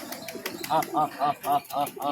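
Bali pigeons coo close by in a steady series of about six throaty pulses, evenly spaced and fairly faint.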